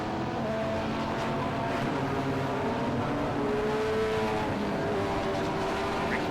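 Classic touring cars, BMW and Holden, race at Silverstone, their engine drone heard faint and distant as a steady rumble with a few passing tones rising and falling over the track.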